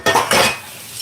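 Kitchen scrubber rinsed under a running tap, two short bursts of splashing water with faint clinks of dishes and utensils, then a softer steady trickle, close and alone.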